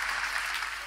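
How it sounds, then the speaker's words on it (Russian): Brief applause from an audience at a stage performance, a soft even patter of many hands that stays level for under a second, heard alone without voices. "Спасибо, спасибо за аплодисменты"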